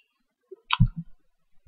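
A computer mouse clicks a few times in quick succession during website setup, close and crisp, with a soft low thump among the clicks and a quiet room otherwise.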